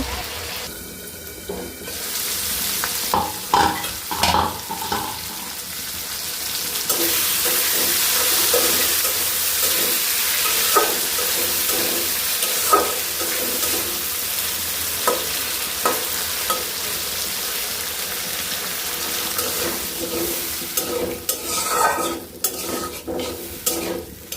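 Potatoes are stir-fried with spices in a pan for an eggplant and potato dish: loud continuous sizzling with repeated scraping and clinking stirring strokes, some metallic taps, and no clear speech.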